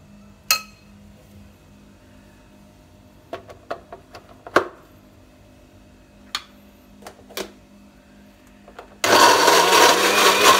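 A blender grinds spices and turmeric with oil, no water, into a paste for spiced chicken. A few sharp clinks and taps of handling come first, then the motor roars on loud and steady to the end.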